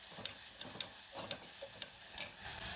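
Tomatoes and salt are stirred into hot oil in a frying pan while cooking a fish dish, giving a steady sizzle with repeated spoon scrapes and clicks close by, and nobody talks.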